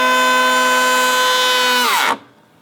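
A DeWalt cordless planer cutting a knot out of a wooden board, a loud, close, high-pitched motor whine that holds steady, then sags in pitch under load before cutting off sharply.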